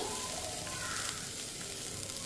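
Soft, steady sizzle of vegetables, including beetroot, sautéing lightly in a pan, quiet and continuous, with no talking.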